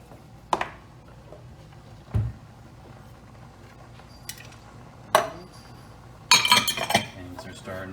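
Dishes and metal utensils clinking and clattering during clean-up in a home kitchen while chicken jambalaya cooks, scattered sharp clinks spaced a second or two apart, then a busier cluster of rattling near the end, close by.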